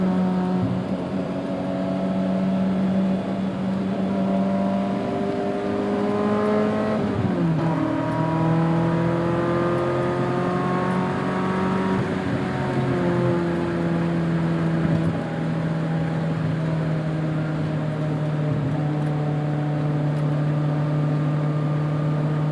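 A 1988 BMW M3 E30 engine hums at a steady pitch, rises and drops sharply through a rev change, then settles into a sustained, even drone, heard loud and close from inside the car with no talk.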